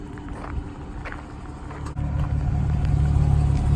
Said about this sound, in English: The exhaust does have a really nice rumble to it, and for a V6, when you accelerate, it does sound pretty good for a V6.